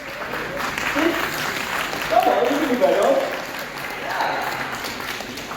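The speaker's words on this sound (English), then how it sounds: "Ladies and gentlemen, big round of applause for Tushar Sriram." Applause for Tushar Sriram from the audience at a Lord of the Rings series star-cast event, steady clapping and crowd noise sustained throughout, with someone speaking over it.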